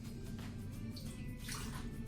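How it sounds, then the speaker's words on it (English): A cup of water poured into a Ninja Foodi pressure cooker, a soft splashing trickle over a steady low hum. "putting a cup of water into our Ninja Foodi"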